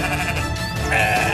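Sheep bleat loudly and close by, drawn-out wavering cries carrying over a steady background with no speech.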